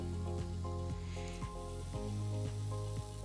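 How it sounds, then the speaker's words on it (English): Small spoonfuls of blini batter cook on an induction cooktop, making a soft, steady sizzle. A strong, regularly pulsing electrical hum from the cooktop sits on top of the sizzle. "we're gonna let these cook for about a minute per side"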